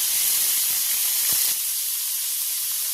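Cloves, peppercorns, cardamom, cinnamon and bay leaves tempering in hot oil before washed vegetables go in for mixed fried rice, heard as a loud, bright, continuous hiss that drops a little after a small splatter.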